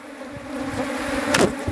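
Honey bees buzz steadily and densely around an opened beehive being split in an apiary, a close, continuous drone with a brief louder pass near the end and no talk.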